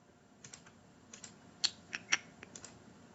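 Key presses on a TI-84 graphing calculator keypad, a sparse run of light clicks with a few sharper taps, close and quiet with no talk.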